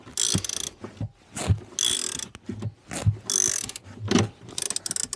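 A ratchet wrench loosens a bolt on a Tesla, giving repeated close bursts of rapid clicking strokes separated by short pauses, with no voices.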